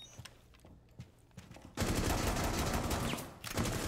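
Rainbow Six Siege gunfire: a few scattered single shots, then a sudden dense burst of rapid automatic fire lasting nearly two seconds, a short pause, and another burst.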